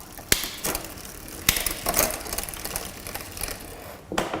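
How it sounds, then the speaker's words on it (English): The gears on a Royce Union RMT mountain bike shift as the pedals turn, giving a close, steady ratcheting whir broken by several sharp clicks as the chain changes cogs. "you want to run through all the gears and just make sure they're smooth"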